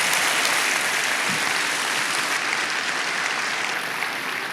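Audience applause fills a live talk event in a room, a dense, steady wash of many hands that stays even for several seconds and fades only slightly toward the end.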